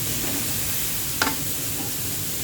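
Carrot, beans and capsicum sautéing in a pan give a steady, low sizzle with faint stirring, plus one brief clatter of a utensil near the middle.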